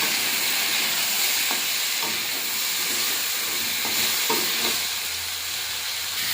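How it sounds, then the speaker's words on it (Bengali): Taro, potatoes and spices with salt, chilli powder, turmeric and tomato stir-fry in a pan for a Bengali fish curry, a steady hissing sizzle broken by a few soft scrapes of the spatula. "কিছুটা কষে নিয়েছি"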